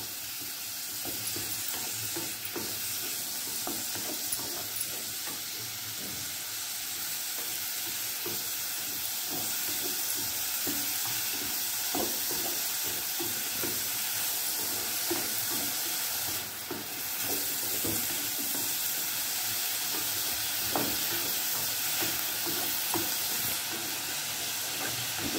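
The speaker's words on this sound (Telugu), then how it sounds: "ఇప్పుడు దీంట్లో టమాటా కూడా వేసుకుందాము ఇదైనా అంతే ఓకే ఒక 2 నిమిషాలు వేయించుకుంటే సరిపోతుంది" Tomatoes frying with sweet corn in a pan for a spicy chaat, a continuous loud sizzle and hiss with occasional stirring scrapes, close up, no talking.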